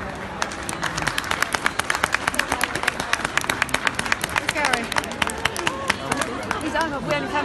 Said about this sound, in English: And a round of applause for Tina Antony.